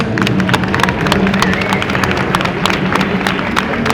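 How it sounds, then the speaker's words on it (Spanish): A crowd at a Campus Party event applauds architect Celso Álvarez, with many hands clapping in a dense, continuous, fairly loud burst that stays steady throughout. "un aplauso a Celso Álvarez"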